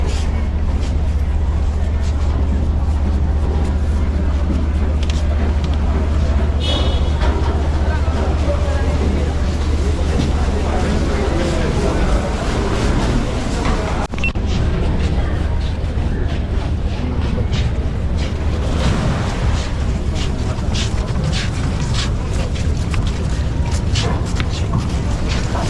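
Steady low rumble of the Likoni ferry's engine and rushing water during a Kenya Ferry crossing, a constant loud drone with wind and crowd noise layered over it.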